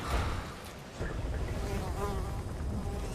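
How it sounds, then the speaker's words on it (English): Flies buzz insistently around the player's head in Metal Gear Solid V, a steady close-up droning hum with shifting pitch that holds for about three seconds. "Flies buzzing around your head is never a good sign."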